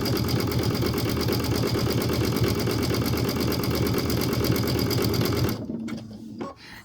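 Sewing machine stitching craft twine into a bowl runs at a fast, steady buzzing rhythm, loud and close for several seconds before stopping abruptly, followed by quiet handling.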